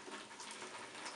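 Monster Energy drink poured and fizzing, a close, steady hiss of bubbling carbonated liquid lasting about a second with no talk.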